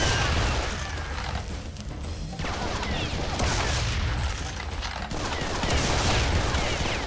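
Shotgun blasts in Serious Sam 3, heavy booming shots amid a dense, loud wash of game combat noise that runs continuously throughout.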